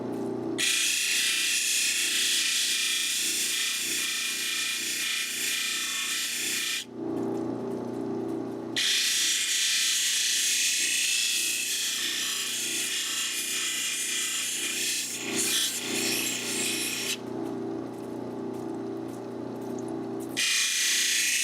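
Agate stone is ground and shaped against a wet 280 grit wheel, a harsh, steady abrasive rasp over a motor hum, broken by short pauses when the stone is lifted away.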